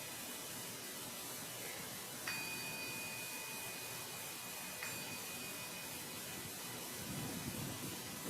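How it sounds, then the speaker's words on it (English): A meditation bell is struck twice at a Zen dharma talk, each strike ringing with a clear sustained tone that fades slowly over steady background hiss. "we start with 3 strikes of the bell and a stop"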